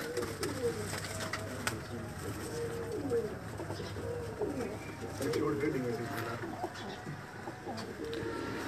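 Many pigeons coo repeatedly in soft, rolling calls close by, with a voice talking faintly in the background.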